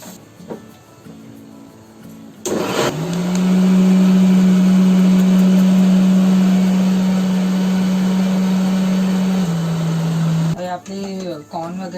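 A mixer grinder whirs into action on cooked spaghetti mixture, a loud steady motor whine that runs about eight seconds after a short start, then shifts pitch and cuts off; a voice talks briefly before and after.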